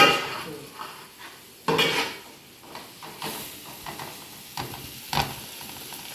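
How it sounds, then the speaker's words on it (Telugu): Tomatoes dropping into frying masala in a pan, with bursts of sizzle, spoon scrapes and pot clatter coming in uneven bumps, close and fairly quiet, no talking. "మసాలా కొంచెం వాసన వచ్చిన తర్వాత గమగమా అప్పుడు టమాటా వేస్తాను"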